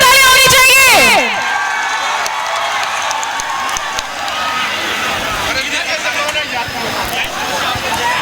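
A large crowd at an appearance in Muzaffarpur cheers and claps steadily, a dense roar following a brief burst of loud singing or music, with shouting mixed in throughout.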